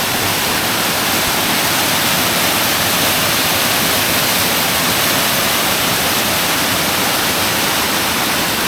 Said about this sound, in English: finally found a waterfall we don't have to pay to look at